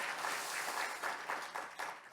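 A church congregation claps for the praise team after worship, a brief burst of moderate applause with a slightly pulsing rhythm.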